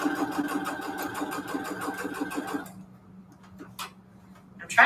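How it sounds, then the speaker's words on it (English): A sewing machine stitches steadily and loudly at close range without the foot pedal, its rapid mechanical ticking running for about half the time before stopping, followed by faint handling noises and a brief rustle. "it's fascinating that I could sew without the foot pedal"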